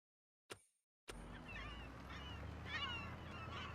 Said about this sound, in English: Let's have more birds.